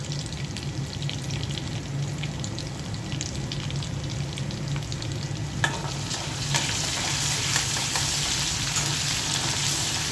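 Garlic, dried red chillies, panch phoron, ginger-garlic paste and turmeric frying in hot oil, a steady dense sizzle that grows louder partway through, with faint scraping of a spoon and no talk.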